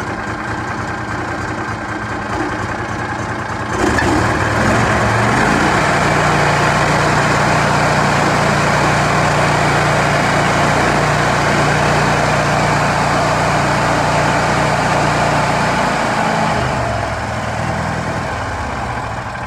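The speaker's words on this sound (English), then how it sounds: "I'm going to let you hear the engine idle and rev up and everything" A 16 horsepower, 500 cc Vanguard engine on an American Landmaster L5W utility vehicle idles with a steady chugging drone, then kicks up to a louder, higher rev that holds steadily, dipping slightly near the end.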